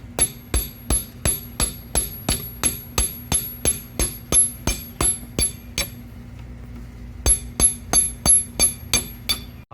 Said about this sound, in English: Just hammer it.